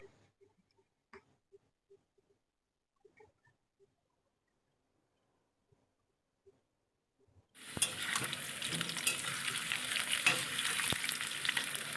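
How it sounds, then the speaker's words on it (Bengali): Large-cut potatoes fry in a pan. After several seconds of near silence with faint clicks, a loud, dense sizzle bursts in and continues steadily. "আলুগুলো বেশ লালচে করে আমি ভেজে নেব"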